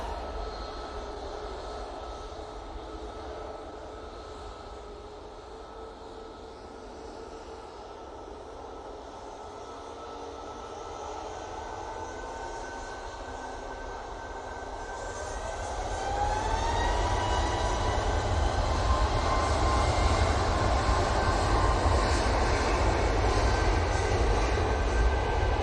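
An airplane at Manchester Airport roars steadily at a distance, its jet noise swelling louder partway through and then holding as a broad, sustained rumble with a rising whine.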